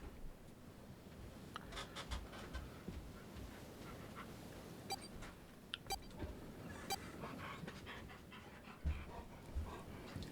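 A dog pants steadily close by, quick rhythmic breaths with a few faint clicks and rustles in a quiet room.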